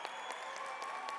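Small audience at an awards banquet clapping in scattered, uneven bursts, a handful of hands rather than a full room, steady and moderately loud over a faint room hum.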